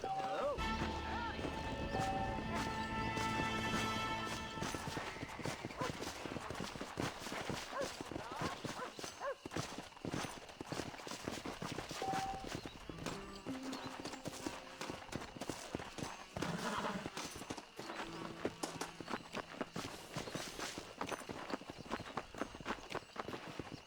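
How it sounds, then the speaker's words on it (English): In the Red Dead Redemption game, a horse's hooves clip-clop in a quick, uneven rhythm amid game sounds and music, with voices talking over it; no clear neigh stands out. "This steed looks right tetchy"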